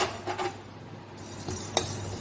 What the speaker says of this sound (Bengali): প্রথমে আমি কিছু মশলা শুকনো খোলায় ভেজে নেব।